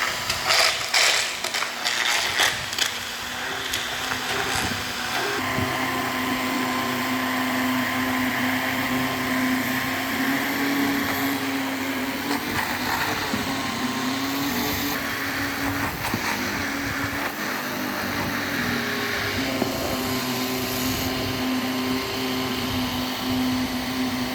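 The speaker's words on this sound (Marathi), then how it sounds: "आता चालू करायचं ग्रँडिंग" A mixer grinder runs nonstop churning cream to make homemade ghee from cow's milk, a loud steady motor whine with a rattling, whirring drone throughout and no talking.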